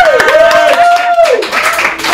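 Comedy show audience clapping briskly and close by, while a voice speaks over the claps.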